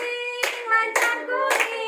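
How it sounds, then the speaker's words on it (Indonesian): Children in a primary classroom clap hands in time while standing and singing a Riau folk song, three loud, evenly spaced bursts of claps over a sustained sung tone. "Nah, diri sambil tepuk tangan."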